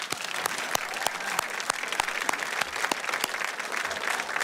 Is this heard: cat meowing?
no